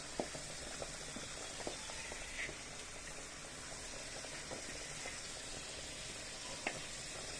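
Koi fish fry in mustard oil with a soft, steady sizzle, quiet and close, broken by occasional small pops and crackles.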